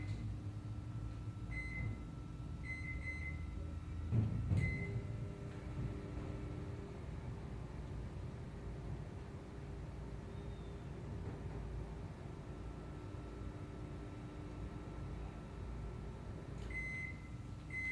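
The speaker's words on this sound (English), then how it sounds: "The microwave has been stopped at 12 seconds." Steady low mechanical hum of a microwave oven running with a coil and circuit board inside, with a faint rattle and a few short high beeps near the start and end.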